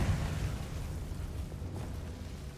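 Confringo fire spell cast in Hogwarts Legacy, a muffled explosive burst followed by a rumbling decay, fairly faint, with no voice.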